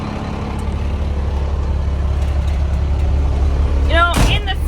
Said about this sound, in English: You probably can't hear me over the truck.